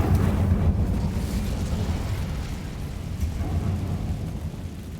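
An Incendio fire spell cast in Hogwarts Legacy gives a sustained, roaring whoosh of flame with heavy low rumble, loud and steady throughout and fading only slightly toward the end, with no talk.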